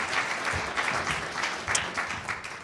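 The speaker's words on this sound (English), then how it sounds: "Can we have a big round of applause, please, for Jim?" Applause from an audience at a B2B sales event, steady clapping from many hands throughout, fairly close and full.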